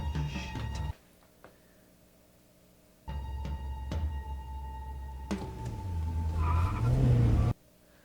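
A purple car drives in a crime drama scene, its engine rising into a loud acceleration, with a quiet gap between two bursts and a final surge that cuts off abruptly.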